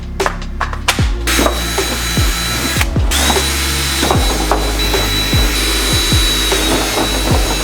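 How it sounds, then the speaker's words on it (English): A power drill bores holes into a car interior part during an LS1-swapped E36 BMW rebuild, loud close whining bursts broken by sharp clicks and knocks, with brief pauses between runs. "Left basically a perfect dimple on each of them, so I know exactly where to drill."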